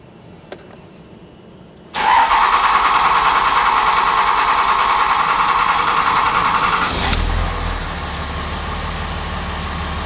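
A car engine cranks continuously for about five seconds during a long start with a high-pressure fuel fault, the starter grinding loud and steady, then it catches and settles into a low idle rumble.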